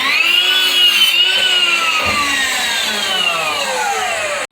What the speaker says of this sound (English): Coming right back with the miter saw and cutting right along that flat side.